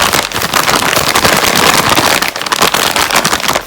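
Resealable Gardein meat substitute bag with seasoning shaken hard, a loud, dense, continuous rustling and rattling right at the microphone.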